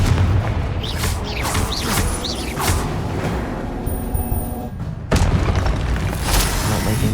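In the Hogwarts Legacy video game on PS5, a Confringo fire spell explodes amid combat, with heavy booming blasts and whooshing bursts layered over a constant loud rumble, and a fresh surge of noise near the end.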